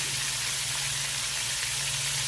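Steady, dense sizzling of jerk pork chops and chicken frying in a hot, shallow skillet, a continuous crackling hiss with a low hum underneath.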